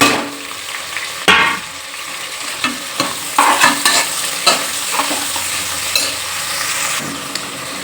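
Onions and tomatoes sauté with coriander leaves in a pan for a jackfruit seed biryani, sizzling close up under repeated spoon stirs and scrapes that land as irregular sharper clicks, with no one talking.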